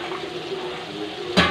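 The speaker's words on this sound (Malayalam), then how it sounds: "കഴിഞ്ഞിട്ട് നമുക്ക് വെള്ളം ഒഴിച്ച് കൊടുക്കാം. വെള്ളം ഒഴിക്കാം." Water is poured into a pan of fried chilli while making a Kerala-style fish curry, a steady close rush of liquid that ends in a brief louder splash, with no talk.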